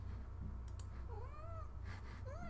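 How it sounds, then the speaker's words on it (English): A pet cat named Dexter gives two short meows, quiet and close by in a still room, with a faint click or tap just before them. "Hi, kitty cat."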